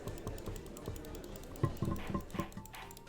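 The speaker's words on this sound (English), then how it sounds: "Can you guys hear me constantly clicking my mouse?" A computer mouse clicks again and again while someone plays the Ace Attorney game, a run of close, crisp, irregular taps that speeds up toward the end.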